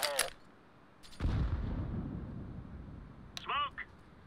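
A grenade goes off in a competitive CS:GO match on the Basalt map: one loud, close boom followed by a rumbling tail that fades over about two seconds, with short bursts of voice chat before and after.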